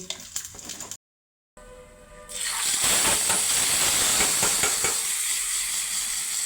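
After a brief silence, a sudden loud burst of sizzling erupts as cumin and dried red chillies hit hot oil for tempering, then continues as a strong, steady hiss.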